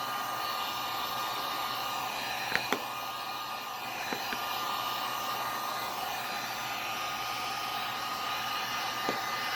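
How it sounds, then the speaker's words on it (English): Heat gun running on a low setting, warming a pistol grip for an M&P Shield: a steady, even airflow whir and hiss with a few faint clicks and taps. "on my heat gun, I just have it on a low setting"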